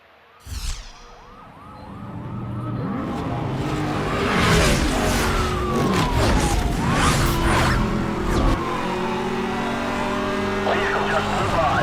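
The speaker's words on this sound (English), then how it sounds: "Vehicle just flew by." In Need for Speed Hot Pursuit Remastered, a car engine roars past with a quick swoosh while a police siren wails, the noise swelling and staying loud over a steady traffic rumble.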